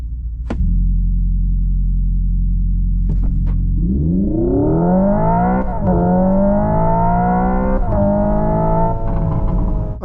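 Hyundai IONIQ 5 N electric car launching hard from a standstill, a low hum then a rising synthetic engine note stepping down at each simulated gear shift, loud and close from inside the cabin.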